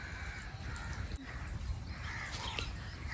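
Crows caw near a maize field, their rough calls fairly distant and partly buried in steady outdoor noise, with no one talking.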